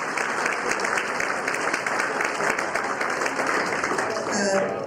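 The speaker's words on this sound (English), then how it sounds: "Let's give them all a round of applause before we get started." A crowd applauds the candidates at an Illinois 2026 primary forum, a steady, dense wash of clapping that holds at an even, fairly loud level for about five seconds.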